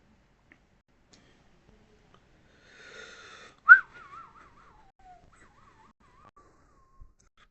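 A referee's whistle at a Premier League match between Tottenham and Newcastle gives a single loud, sharp blast, followed by a fainter wavering trill that tails off into near silence.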